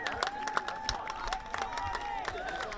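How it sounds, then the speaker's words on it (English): Crowd at a Brown University men's rugby match against Salve Regina cheering and clapping after a try, scattered claps and shouts over a steady hum, with some voices mixed in. "a big crowd cheer for a new player on this Brown team, scoring a try"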